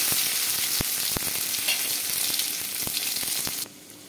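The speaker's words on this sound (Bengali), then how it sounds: "এবার হলুদ মাখানো আলুটা ভেজে নিচ্ছি।" Boiled potatoes coated in turmeric fry in hot oil with a dense, steady sizzle, sharp crackles and pops scattered through it, before the sound cuts off abruptly near the end.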